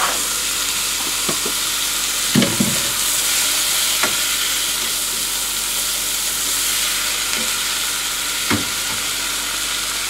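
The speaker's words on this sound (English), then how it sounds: "Let's add our beans." Beans tumble into chili sizzling in a skillet, a steady loud frying hiss with a few soft clunks and stirring scrapes, no voices.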